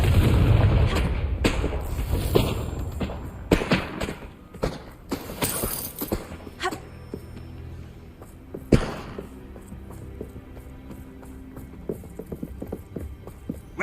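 A fiery spell blast erupts in Hogwarts Legacy, with sharp booming impacts and crackling bursts repeating over the first several seconds, then a single loud bang near the middle before quieter scattered clatter trails off.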